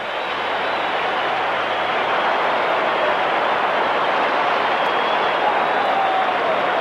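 A packed stadium crowd gives a sustained standing ovation during a 1985 NLCS Game 4 between the Dodgers and Cardinals, a broad, loud, unbroken roar of applause and cheering from the stands.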